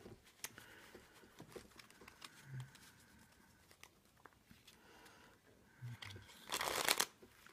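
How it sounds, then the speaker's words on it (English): Quiet riffling and patter of playing cards being shuffled, faint throughout, ending in a louder, longer burst of cards flicking together. "First we're going to give it a nice shuffle."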